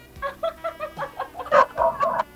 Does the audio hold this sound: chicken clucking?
yes